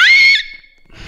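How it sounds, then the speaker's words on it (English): A woman lets out a single loud, shrill scream while playing a video game, holding a high, steady pitch for about half a second before it fades out. "Sorry, I did not mean to scream."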